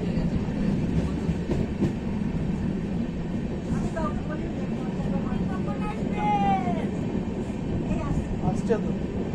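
The Howrah Puri superfast express rolls into Puri station in Odisha, a continuous low rumble of wheels and carriages with squealing rail screeches, while people on the platform chat nearby.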